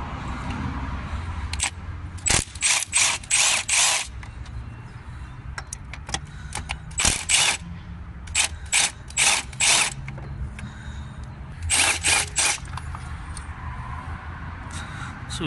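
A hand ratchet loosening bolts on a BMW Mini engine, with repeated bursts of rapid clicking in short runs separated by brief pauses, close and crisp.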